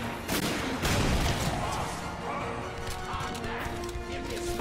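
Shotgun blasts ring out in The Darkness 2 video game: a few heavy booming shots early on, then a sustained noisy wash of gunfire and crashing impacts, with faint speech mixed in.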